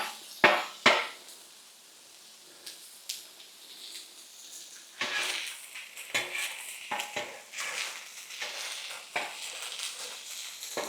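Onions cooking gently in a pan on low heat, with a soft sizzle under repeated stirring and scraping of a utensil against the pan, plus a few sharper knocks, close and steady throughout.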